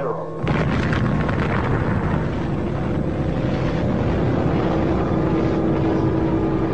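An atomic bomb detonation, a weapon about five feet across with a yield near 20,000 tons of TNT, heard as a sudden loud blast followed by a sustained, heavy roaring rumble that fills the whole stretch without fading.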